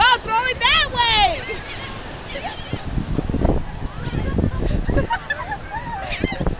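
Seagulls on the Coney Island shore squawk and fight over chicken scraps, with a dense flurry of loud, close cries up front and more calls scattered throughout as people talk and shout nearby.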